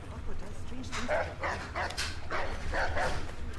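Several dogs in the video game Assassin's Creed III bark in quick repeated bursts, moderately loud, under ongoing talk.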